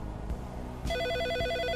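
A telephone rings in the video game Always Sometimes Monsters, a steady electronic ringtone with a sustained tonal pattern that starts abruptly partway through and continues clearly over a low background.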